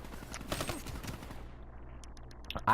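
Rapid bursts of gunfire from a burst-fire gun fitted with a sight, fired in a weapons-warfare video game match, crackling densely for about a second and a half and then fading into quieter game ambience.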